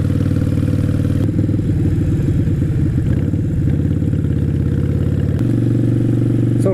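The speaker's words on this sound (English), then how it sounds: "These pipes are so loud and this helmet just kind of amplifies it." Loud motorcycle exhaust pipes roaring from the rider's seat while riding, heard through a helmet, with a deep continuous engine drone that shifts pitch as the throttle changes and a steady rumble underneath.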